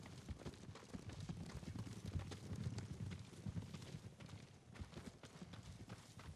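Horse hooves clip-clop along a road in the samurai game Ghost of Tsushima, a steady rhythmic trot heard at moderate distance amid ambient game sound.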